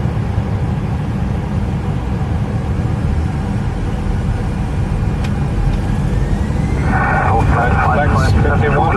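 Airliner jet engines spool up toward takeoff thrust on runway 26 left, a steady loud broadband roar filling the whole clip and building slightly near the end, with cockpit radio chatter and voices over it.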